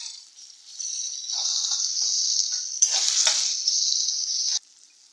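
Tomatoes with ginger-garlic paste fry in a pan, a loud bright sizzle that starts after a moment, carries on steadily with a brief scraping stir, then stops abruptly.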